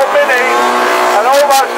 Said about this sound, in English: Right, minivan against the AMG Mercedes.